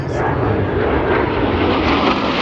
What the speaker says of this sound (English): From behind the spectator area, Blue Angels 5 and 6 are approaching the flight line at 400 miles per